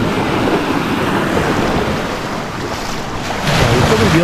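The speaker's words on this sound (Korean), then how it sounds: "정말 캐나다에서 찾기 힘든 아주 훌륭한 바닷가네요" Ocean surf rolls steadily onto a broad beach on Prince Edward Island in Atlantic Canada, loud and continuous with strong wind buffeting the microphone and a swelling wave near the end.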